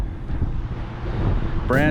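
Steady, roaring wind buffets the microphone throughout, with a brief voice breaking in near the end.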